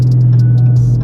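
Car idling with Stainless Works catless mid pipes, a loud, steady low exhaust drone with a strong hum throughout the short stretch, alone without talk.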